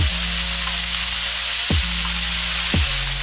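Chicken pieces seasoned with a salt, pepper and garlic blend fry steadily in a pan, a close, continuous sizzle with two brief louder scraping stirs.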